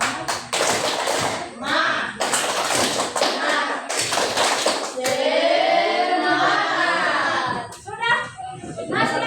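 A group of children claps together in a rhythmic pattern, loud and close, with several short bursts of clapping broken up by children's voices talking and shouting.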